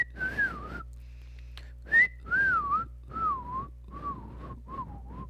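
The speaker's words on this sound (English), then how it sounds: "Yeah, I can whistle." A person whistling a simple tune alone, a series of about seven short melodic phrases with gentle pitch bends separated by brief pauses, close and clear.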